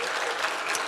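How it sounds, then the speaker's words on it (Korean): A church congregation breaks into a brief, dense burst of applause, loud and full, filling a large worship hall. "박수합시다. 너무 감사드려요."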